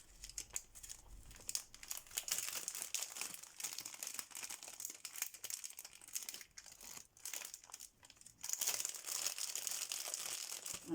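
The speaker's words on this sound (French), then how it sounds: "on va ouvrir ce paquet-là" A paper mail package being opened by hand, with steady crinkling and crumpling of paper and a few sharp tearing bursts, close and fairly quiet, with no talk.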